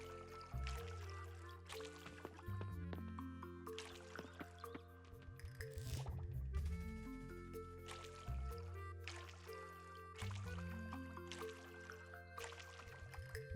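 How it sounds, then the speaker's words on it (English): Crops being watered in the Coral Island farming game: a run of short, wet splashing and dripping bursts repeated at a steady pace over continuous background music. "Just quickly chuck some water over these bits."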